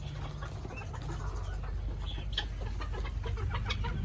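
Chickens and guinea fowl cluck and chatter while eating layer feed on a farm, with dense overlapping calls over a steady low background hum.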